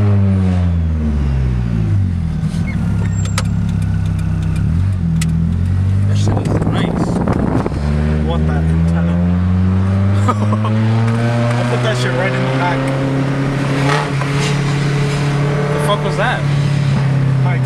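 A car with a broken exhaust hanger under the seat rattles and scrapes while driving, layered over steady engine drone that rises and falls with revving, with people talking throughout.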